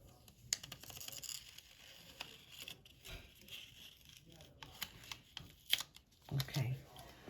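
Material is peeled off a painted craft piece. The faint scratchy peeling and tearing comes in soft intermittent bursts, with a voice underneath.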